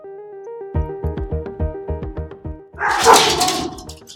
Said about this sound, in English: Sorry, that was my dogs, guys.